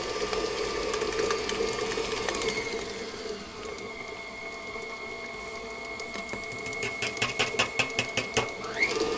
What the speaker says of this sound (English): you want to start creaming this in the mixer using the paddle